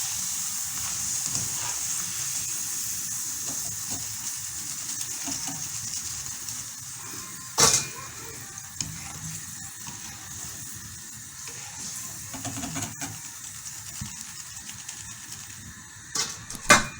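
Steady crackling and hissing of potato chips frying in hot oil fills the clip, with a few brief clatters of a utensil stirring.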